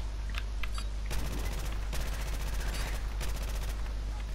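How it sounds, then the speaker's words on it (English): Submachine guns chatter in Modern Warfare, rapid automatic bursts in several separate strings, loud and close, with players talking over the firing. "Just spray your submachine guns everywhere and hope you hit something"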